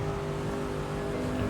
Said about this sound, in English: the car engine doesn't appreciate how uphill it is